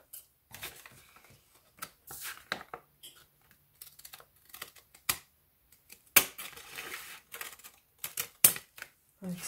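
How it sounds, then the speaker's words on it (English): A piece is cut off a craft stencil, giving quiet, intermittent snips and crisp clicks scattered over several seconds, with a few sharper cuts near the end. "Just cut this little thing here off."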